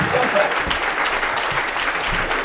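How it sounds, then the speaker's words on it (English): A crowd at a Startup Grind event in Cape Town applauds to welcome a speaker onstage, with loud, dense clapping and a few scattered voices rising through it. "One round of applause to Deon, Michael Deon."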